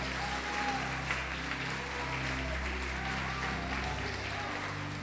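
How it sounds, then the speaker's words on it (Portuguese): A church congregation applauds at a worship service, steady sustained clapping spread across the room under a low musical drone, with some voices mixed in. "Pode aplaudir e glorificá-lo."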